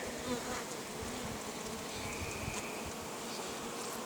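Honey bees buzzing around an apiary hive working autumn buckwheat, a dense, steady hum of many insects close by with no talk.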